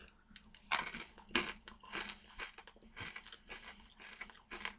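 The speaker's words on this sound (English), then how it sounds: "very crunchy coating, somewhat sweet coating on a peanut with good garlic flavor" Crunching of garlic-flavored, wheat-coated Nagaraya cracker nuts, close and fairly quiet, a series of sharp irregular bites and chews with no talk.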